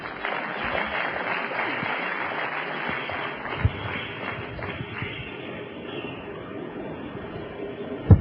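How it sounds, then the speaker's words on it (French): Sustained audience applause welcoming Hassan El Fad at the Menara 2002 internet event, an even wash of many hands clapping that goes on for the whole stretch at a moderate level. "Je vous propose d'accueillir et d'applaudir Hassan El Fad."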